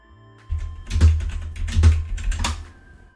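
Quick bursts of computer keyboard typing, a flurry of close, crisp key clicks after a brief quiet start, with no speech.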